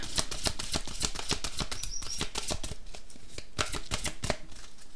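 Oracle cards are shuffled by hand in quick, even riffling bursts, a close, crisp run of papery flicks lasting several seconds with no talking.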